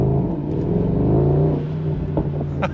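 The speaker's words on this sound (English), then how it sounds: "Hopefully the GoPro also picks the blow-off valve sound up." A 2024 Mercedes SL63 AMG engine rumbles and revs up close, a sustained deep roar that eases off near the end as short hissing bursts from the blow-off valve come through.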